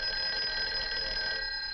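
An old 1960s telephone bell rings continuously in a household, a steady metallic jangling trill that stays loud and close with no talking over it.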